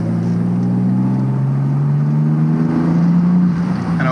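Mitsubishi Legnum VR-4 wagon with a twin-turbo engine and aftermarket exhaust accelerating, a loud, steady, boomy engine drone heard from inside the cabin, rising gradually in pitch over several seconds with no talking.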